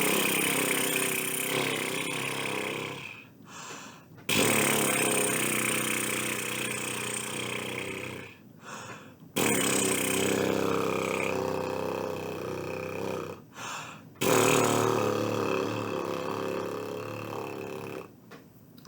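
Beginning trombone and baritone students buzz their lips on a brass mouthpiece, several sustained raspy buzzes separated by short silences, each held for a few seconds in a small room.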